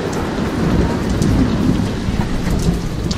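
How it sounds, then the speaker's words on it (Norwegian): Heavy rain pours down in a thunderstorm at a Bulgarian holiday resort, a loud, dense, steady roar of downpour with thunder rumbling low beneath it, with no talking. "det regner som satan."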